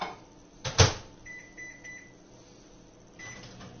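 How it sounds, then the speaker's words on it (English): A microwave oven melting half a cup of butter for hollandaise: a sharp clunk of the door near the start, then a low steady hum with faint electronic tones, close by and with no talking. "we need to melt that in the microwave"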